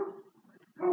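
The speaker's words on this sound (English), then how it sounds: "And I'm sorry if you hear the dogs barking." Dogs barking somewhere nearby, two short muffled bursts a moment apart, moderately quiet and indoors with no talk over them.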